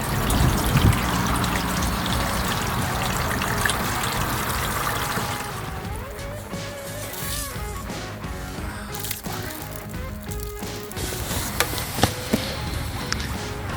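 Water trickles and dribbles steadily during a leak test of a repaired RM125 dirt bike tank, a continuous close splashing flow with small drips and clinks.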